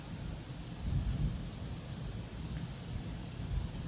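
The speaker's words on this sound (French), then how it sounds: "l'orage s'intensifie de plus en plus" An intensifying, extreme thunderstorm in Gironde rolls low and continuous, a deep rumbling of thunder mixed with wind and rain noise, with no voices.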